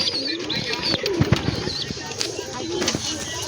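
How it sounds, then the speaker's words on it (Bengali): Pigeons come down to land and call from above, with clustered chirps, low coos and brief wing flaps close by, amid scattered knocks and outdoor noise. "এই দেখুন এখানে সে পায়রাগুলো নামছে, এই ওপরে সব চিঁচি করছে"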